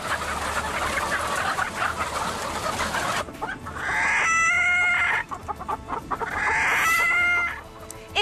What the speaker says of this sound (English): Billions of chickens are kept in cages